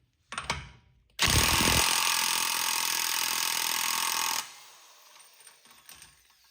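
A corded power tool, likely an impact wrench, spins off the axle nut on a 1991-1996 Acura NSX with a 5-speed manual: a short burst, then a loud, steady roaring hammer for about three seconds before cutting off.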